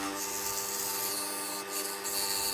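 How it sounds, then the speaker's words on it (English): Steady abrasive rubbing of sandpaper on freshly cut wood edges, a continuous close scratchy rasp with no talking. "These fresh cut edges don't really match the rest of the wood, so I'm sanding them"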